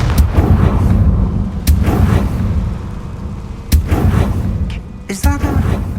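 Explosive Confringo spell blasts in Hogwarts Legacy, several sharp booming bursts in quick succession over a dense, rumbling game soundscape, loud and close with a crackling trail after the last hit.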